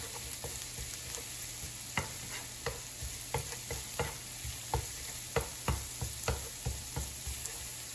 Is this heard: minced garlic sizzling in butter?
yes